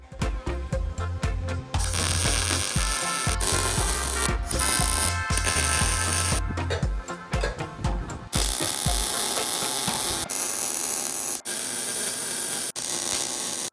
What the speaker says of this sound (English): Alright, got her all welded up.